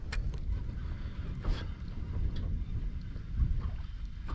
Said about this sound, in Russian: О, лодка едет.